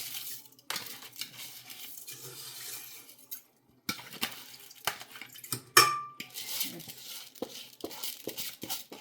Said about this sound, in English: I'm just gonna use this spoon and get the rice in here.